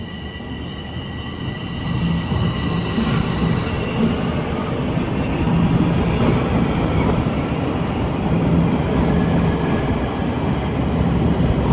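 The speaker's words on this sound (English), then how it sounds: "Oh, I can see the northbound train." A Toronto subway train rumbles into Summerhill Station, its noise swelling after a couple of seconds, with metallic wheel squeals and clicking over the rails.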